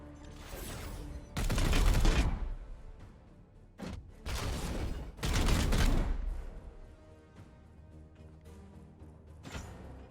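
Gunfire and booming weapon blasts in the video game Chaos Gate Daemonhunters as an enemy is shot; several loud bursts arrive in clusters over a musical, mechanical background, with quieter gaps between.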